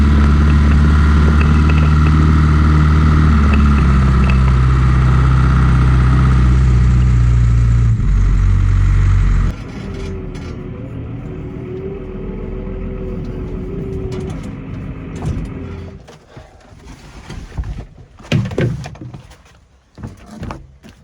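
A TM150 tractor engine running as it drives across a field, a loud steady drone that suddenly drops to a quieter hum, then gives way to clattering and rustling near the end.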